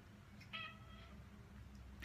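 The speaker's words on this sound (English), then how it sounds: "that's my cat." A cat gives a single faint, short meow in a quiet room, with a low steady hum underneath.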